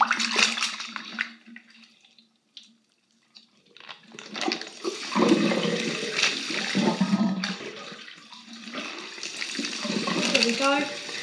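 Water runs from a tap into a sink, splashing steadily and close by, briefly stopping before a fuller, louder flow resumes, with someone talking over parts of it.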